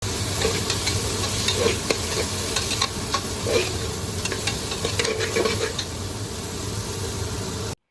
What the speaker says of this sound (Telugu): తర్వాత సన్నంగా తరిగిన ఉల్లిపాయలు వేసి గోల్డెన్ బ్రౌన్ కలర్ వచ్చే వరకు కలుపుతూ వేయించండి.